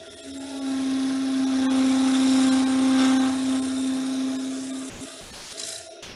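A turning tool cuts material on a lathe, throwing off shavings, with a steady whining hum and a strong tonal drone for about five seconds before the cut eases off and fades.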